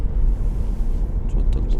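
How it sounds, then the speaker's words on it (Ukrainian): A 2013 Nissan Leaf electric car rolling along with steady low tire and road noise, a continuous close rumble and no engine hum, briefly joined by faint higher hiss near the end. "шум коліс природній"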